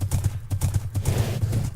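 Minecraft horse hooves clip-clop in a steady, quick rhythm of close, evenly spaced hoof strikes, carrying on for the whole stretch with no talk over them.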